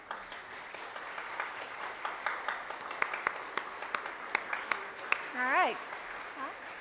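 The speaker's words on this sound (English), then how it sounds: "I think we'd all like a round of applause." A church congregation at a Sunday service gives a round of applause, a fairly faint, busy scatter of claps that keeps going, with a voice speaking briefly near the end.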